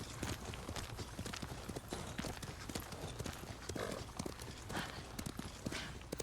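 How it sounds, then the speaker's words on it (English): A horse's hooves clip-clop at a steady walking rhythm in Ghost of Tsushima, a continuous, evenly paced patter of close footfalls with the ambient sound of the game beneath. "Yuriko's horse."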